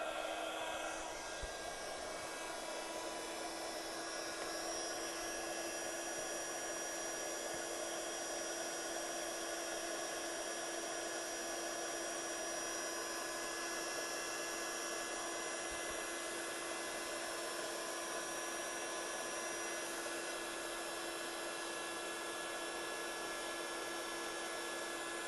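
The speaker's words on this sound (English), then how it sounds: "So I'm gonna bring the heat gun on and watch what happens." A heat gun blows hot air over expanding foam, a steady loud whirring hiss with a constant whine that runs unbroken throughout.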